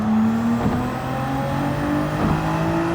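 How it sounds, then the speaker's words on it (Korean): A race car engine in the Gran Turismo 7 racing game holds a steady high whine with brief rev dips during shifts, continuous and fairly loud, with no voices. "야 근데 엔진 소리 죽인다"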